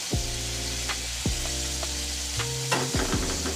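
Ginger paste and chili paste hit potatoes frying in a little oil for a winter cauliflower and potato curry, giving a steady close sizzle broken by a few scraping stirs of the spatula.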